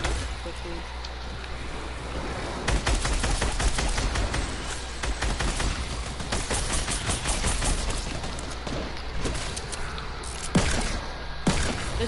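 Rapid bursts of video game gunfire in a squads-and-duos shooter match, dense volleys through much of the stretch over a steady background hum, with people talking over the shots.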